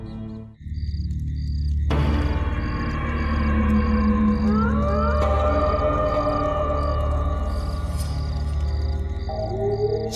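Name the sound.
fox crying at night, drama sound effect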